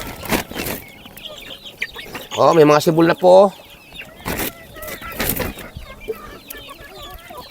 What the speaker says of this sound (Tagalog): pati mga manok dito kagulo na sa akin tabi, oh